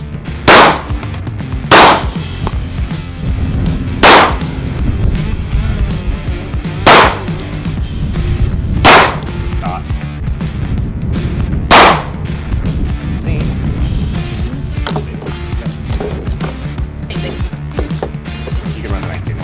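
Handgun shots fired in a shooting drill from a low-ready position, seven or so sharp cracks spaced a second or two apart, with someone talking between and over them and outdoor background noise.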